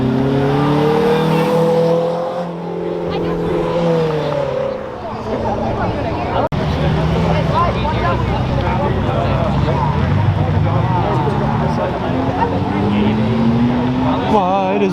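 A loud muscle car engine downshifts and revs hard as it accelerates past a police car on a street, pitch sweeping up and down through gears, with people talking and cheering over it.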